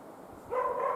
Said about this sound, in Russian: Слышите, ребята? Лает собака.